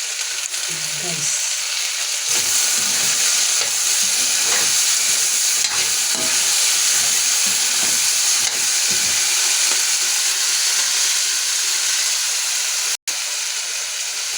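Potatoes sizzle steadily in a hot pan as they are stirred, a continuous close frying hiss with occasional scraping and clinks, lasting throughout with no talking.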